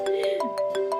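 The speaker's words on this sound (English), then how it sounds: "Sorry, my phone is ringing." A mobile phone ringtone plays in a home setting, a repeating melodic electronic tone with regular pulses, fairly clear and steady over a short burst, with no talking over it.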